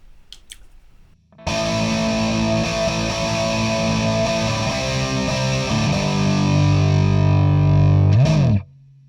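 Distorted electric guitar through a miked cab: after a second of quiet, one sustained crunchy chord rings loud and steady for about seven seconds, swells slightly, then cuts off abruptly.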